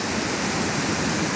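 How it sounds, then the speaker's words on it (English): A waterfall on a salmon river at the Highland Titles Nature Reserve pours with a dense, constant rushing hiss, close and even throughout, with no voices. "Does it get up that waterfall, or is this as far as they go?"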